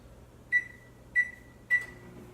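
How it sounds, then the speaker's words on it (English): A microwave oven gives three short, clear beeps over a low steady hum while heating milk chocolate chips in 20-second intervals. "I'm going to do mine in the microwave."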